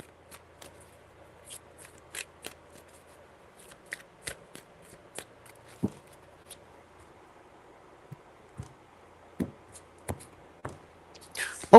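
Tarot cards shuffled in three bursts of soft riffling and sharp slaps, scattered clicks and taps spread across the stretch, fairly quiet and close, with no talking.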